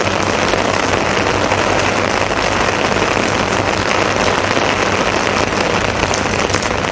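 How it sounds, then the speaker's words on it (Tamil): Moderate rain falls in Chennai, a steady, dense hiss of drops on surfaces, even and unbroken from start to finish, with a faint engine hum underneath. "காலையிலும் விட்டுவிட்டு மிதமான மழை பெய்து வருகிறது"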